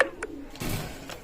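Teddy pigeons kept as running pairs at a pigeon loft coo softly in a few short low notes, close and fairly quiet, with no talking.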